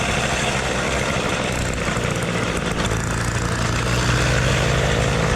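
A moped with a 70cc kit, 15 mm carburettor and racing variator runs continuously with a dense, rough drone. Its engine tone rises and strengthens toward the end, with no talking.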